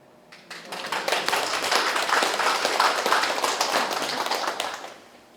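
Audience applause swelling quickly from a few claps into a full, dense round that holds steady for several seconds before fading out, with no voices over it.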